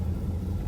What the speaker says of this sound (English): The blower car using as a tow vehicle.